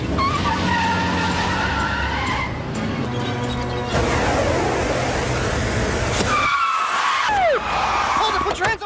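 Car tires skid and squeal loudly during a getaway in a film scene, with engine roar and screeching sweeps over a dense soundtrack, plus a sharp squeal near the end.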